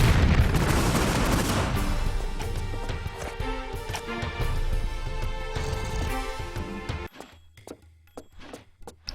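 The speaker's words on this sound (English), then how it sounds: "But he is about to get a grenade in the face" A grenade blast in the video game Tomb Raider 3 sets off a loud, dense roar of explosion noise that rumbles on for several seconds, then cuts to near silence broken by a few faint clicks.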